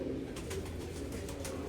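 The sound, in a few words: pigeon cooing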